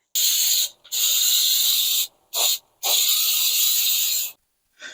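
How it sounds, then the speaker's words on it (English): Spray can applying a second coat of rust reformer to a rusty washing machine, loud close hissing in four bursts of varying length with short pauses between. "let me go ahead and give it a second coat of this rust reformer"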